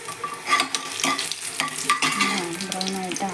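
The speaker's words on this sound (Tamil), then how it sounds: "வரமிளகாய், நாங்கள் பட்டை மிளகாய் அதை போட்டுட்டு கொஞ்சம் பூண்டு அதையும் போடுங்க." Dried red chillies and garlic crackle in hot sesame oil for spicy chutney, a close, lively sizzle with spattering bursts and stirring scrapes.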